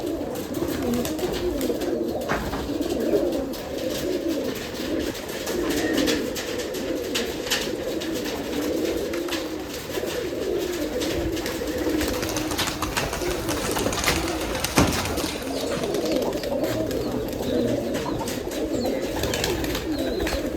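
Many pigeons coo steadily in a large Giribaz pigeon loft, a dense, continuous chorus of low murmuring calls close by with no talk.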